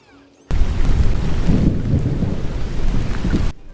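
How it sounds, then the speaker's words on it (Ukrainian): Steady heavy rain with deep rumbling thunder rolling throughout, loud and close, starting abruptly and cutting off after about three seconds. "Шум дощу та грому"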